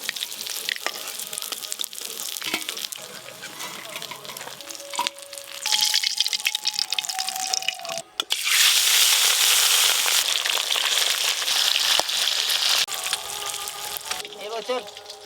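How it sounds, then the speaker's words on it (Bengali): Rohu fish pieces frying lightly in hot oil, a dense crackling sizzle that swells loud midway, with occasional utensil clinks and a person talking over it. "এই মাছগুলো ভাজা হয়ে গেল ভালো করে।"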